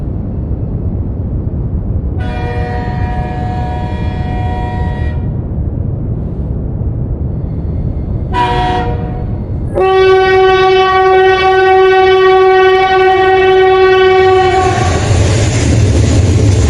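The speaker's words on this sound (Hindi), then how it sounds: "दूर से ट्रेन की तेज आवाज सुनाई देने लगी" A train thunders past at close range, its loud horn blasting in several tonal bursts over a steady rumble of wheels and rail clatter, the final long blast swelling as the train nears.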